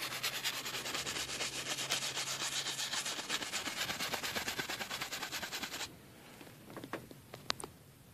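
Brush strokes smoothing paint over grassy areas of a soft spring landscape painting, a close, steady rhythmic rubbing and scratching that runs continuously, then gives way to a few faint, sparse dabs near the end.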